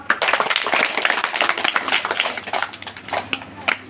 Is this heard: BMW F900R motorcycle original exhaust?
no